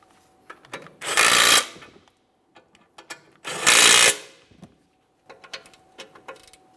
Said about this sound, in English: let's snug them up and then torque them to 80 foot-pounds